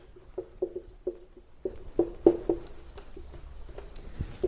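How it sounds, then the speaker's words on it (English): Chalk or marker on a board during a political theory lecture, a run of short tapping and scratching strokes in an irregular rhythm, close and moderately loud with no talking. "Let me just write rational theory."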